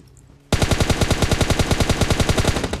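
Sustained automatic gunfire in PUBG Mobile, a loud, rapid, evenly spaced burst that starts abruptly after a quiet moment and continues to the end.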